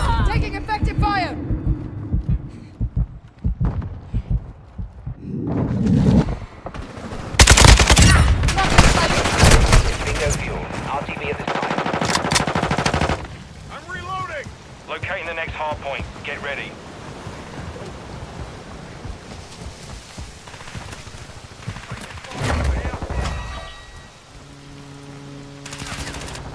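Gunfire in Modern Warfare 2 during a Hardpoint match on Pelayo's Lighthouse with the Kast, sustained bursts of automatic shots near and far amid explosions and rumbling ambience, with game voices calling out over the action.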